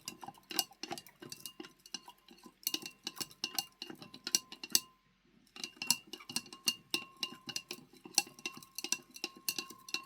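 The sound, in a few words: stirring copper sulfate solution in glass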